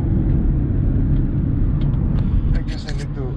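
A Hyundai Accent engine accelerating with a steady low rumble that stays loud and near, then a brief dip around a gear shift into third, with a voice heard over it near the end.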